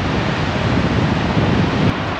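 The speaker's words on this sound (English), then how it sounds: "and very windy." Strong, steady wind on the high Hetch Hetchy trail in Yosemite National Park, above the dam, heard as a loud, continuous roar buffeting the microphone with no talk.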